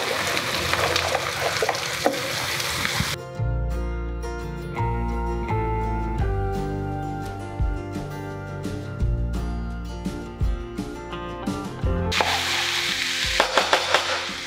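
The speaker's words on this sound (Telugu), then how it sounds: "ఉల్లిపాయలు అన్నీ వేసేసుకోవాలన్నమాట." Onions sizzle and fry in a pan for a village-style egg curry, with steady crackling at the start and end. A loud stretch of music plays over the middle.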